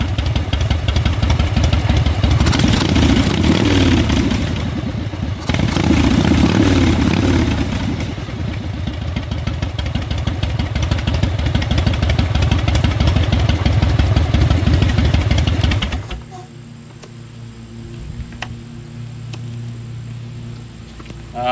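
A Harley-Davidson EVO motorcycle engine running on its own after an intake seal replacement, loud and close with a lumpy idle and some revving, then cut off abruptly, leaving quiet background.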